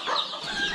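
Desi country chickens in a Konkan poultry pen give a brief burst of soft clucking, close by and fairly quiet.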